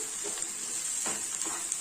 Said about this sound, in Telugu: ఈ పచ్చడి అంతా ఈ తాలింపులో బాగా కొద్దిగా వేగాలి